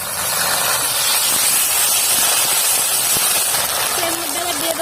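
Onion and ginger paste hits hot oil in a frying pan while making a pabda fish curry, giving a loud, steady, broadband sizzle and hiss that holds for the whole stretch with no talk over it.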